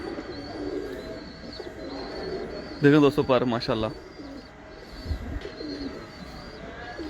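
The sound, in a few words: breeder pigeons cooing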